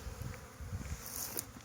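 Honeybees buzz at a hive entrance in spring, a steady faint hum with a few individual bees droning past, no voices.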